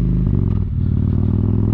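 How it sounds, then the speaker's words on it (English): A motorcycle exhaust rumbles steadily and close while the bike is ridden with a windshield fitted, a loud low drone with slight clattering and no talk over it. "my exhaust is so much louder with this windshield on"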